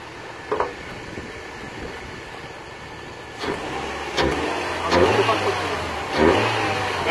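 A Mazda 323F engine after a gearbox change revs up in several short bursts over a running idle, with people talking nearby.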